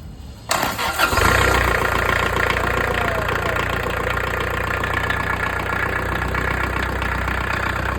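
Kubota V1305 four-cylinder diesel engine cranks and fires after half a second, then settles into a loud, close, steady rattling idle with a rough knocking beat and no voices.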